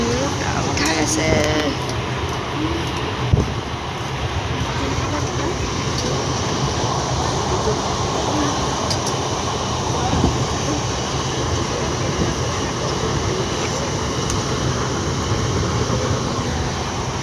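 Riding inside a moving passenger train bound for Tarapith, a constant low rumble and rattle of the carriage runs throughout, with small clanks and faint background voices in the compartment.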